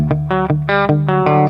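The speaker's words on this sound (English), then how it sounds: "And we wanted some reverb on it." Clean reamped electric guitar with reverb, playing a short run of sustained, harmonically rich notes and chords at steady loudness, each note ringing into the next with a soft reverb tail.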